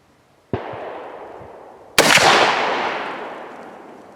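Two gunshots fired over a chronograph at a shooting range, a lighter crack followed about a second and a half later by a much louder blast, each trailing off in a long outdoor echo, no voices.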